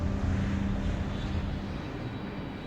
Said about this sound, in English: the aeroplanes open their undercarriage around about now